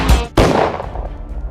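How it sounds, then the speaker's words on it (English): A gunshot ends a song, heard as two sharp loud cracks in quick succession, the second followed by a ringing decay. "The song ended with a sound of a gunshot."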